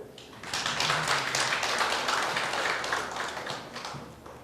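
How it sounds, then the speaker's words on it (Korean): An audience at a Korean marriage seminar applauds husbands with a dense, sustained burst of clapping that swells quickly and holds for several seconds before gradually thinning out. "우리 남편들에게 박수 한번 주세요"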